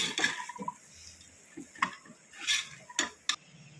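Carrots and beans being stirred in a pan for a vegetable biryani, giving a few scattered spoon scrapes and clinks against the metal, close and moderately loud with quiet gaps between.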